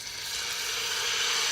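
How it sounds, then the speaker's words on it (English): Sweet soy sauce hits a hot pan while pork braises, giving a steady, loud, broadband sizzle that holds for the whole moment with no voices over it. "now I'm gonna add some soy sauce. This is sweet soy sauce also."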